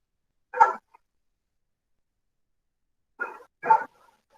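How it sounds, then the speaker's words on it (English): Dogs bark in a quiet indoor setting: one short bark, a long pause, then two more close together near the end, moderately close and with no talk over them. "Sorry about the dogs."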